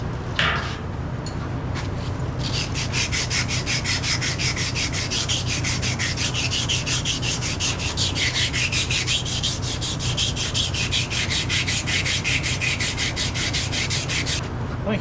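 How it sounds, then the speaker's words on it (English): Emery cloth rubs back and forth on a metal cylinder part during a cylinder rebuild, giving a fast, even rasping scrub that repeats steadily and close up for about fifteen seconds. "I'll get some emery cloth"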